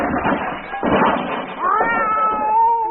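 A cat meows with drawn-out, wavering cries, close by, over a background of overlapping talk and room noise.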